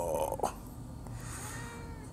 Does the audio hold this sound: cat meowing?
yes